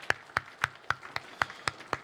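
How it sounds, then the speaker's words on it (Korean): Eight evenly spaced handclaps ring out in a quiet room during a harvest thanksgiving Sunday church service, a steady slow rhythm of single crisp claps with no talking over them. "하나님 아버지께 감사와 영광에 우리 박수를 한번 올려드리도록 하겠습니다"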